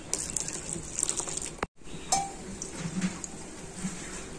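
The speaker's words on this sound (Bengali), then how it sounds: "আর এক বাটি জল আমি দিয়ে দিলাম" A bowl of water poured over grated raw mango in a pot for jelly: a soft, steady splashing and trickling, faint and close, with a brief clatter midway.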